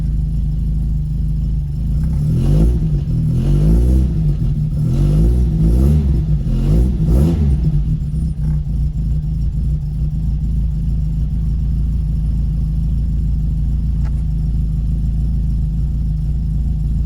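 A 1975 VW Scirocco with carburetors runs just after a cold start, its engine rumbling close by, blipped through several quick revs early on, then settling into a steady, loud idle with no talking.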